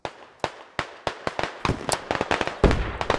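MG3 machine gun fire in the SquadOps tactical shooter, a rapid string of sharp, close bursts that speeds up into a dense rattle toward the end.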